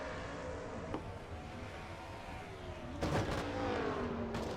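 Engines of 1996 Ford race trucks in a pack roar in a racing video game, a continuous layered drone with rising and falling pitch and occasional sharper bursts as the trucks pass, fairly faint overall.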